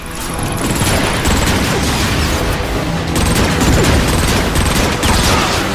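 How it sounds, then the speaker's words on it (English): Dropship cannon gunfire in Transformers: Fall of Cybertron, dense continuous bursts of loud, crackling shots and explosions filling the whole stretch without pause. "Jump on the dropship and man the cannon!"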